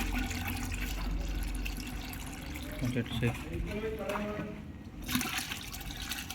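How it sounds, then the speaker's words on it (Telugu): Water sloshes and pours into a container while being mixed for bathroom waterproofing, a steady liquid wash running throughout with voices talking over it. "వాటర్ అయితే మిక్స్ చేస్తున్నాను"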